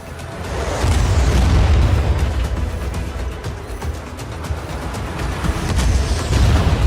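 Explosions from a bomber attack in Just Cause 4 land as loud, rolling booms and bursts, overlapping in a heavy, continuous barrage that swells and eases repeatedly.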